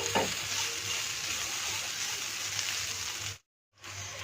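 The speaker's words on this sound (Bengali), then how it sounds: "আমি একটু ভাজা ভাজা করে নেব" Food sizzles steadily in a hot pan, a constant crackling hiss with a brief scrape near the start, then a short cut to silence.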